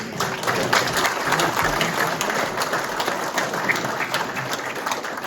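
An indoor audience at a Tasmanian Men's Shed Association speech claps in steady, even applause, a dense patter of many hands sustained throughout with no voices over it.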